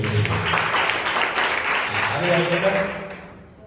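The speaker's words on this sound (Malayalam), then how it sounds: "നല്ലൊരു കൈയടി കൊടുത്തു" Clapping from a small church youth fellowship gathering of about forty people after a child's song, a dense round of applause lasting a few seconds before fading, with voices talking over it.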